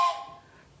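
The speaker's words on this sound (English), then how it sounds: "But my whistle is a train whistle." A short, bright toy train whistle toot that fades quickly into quiet, a single breathy blast with a steady tone.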